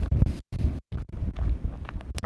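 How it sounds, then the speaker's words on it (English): Strong wind batters an outdoor microphone with loud, low, rumbling gusts, broken by a couple of brief dropouts into near silence. "Look, I'll give you an idea of how windy it is."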